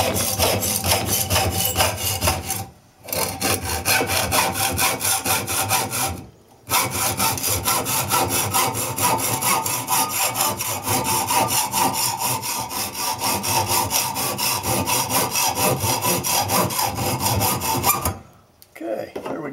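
A saw cuts through a metal fuel filter that still holds gasoline, giving loud, continuous rasping strokes at close range that carry on for most of the time and break off in three short pauses.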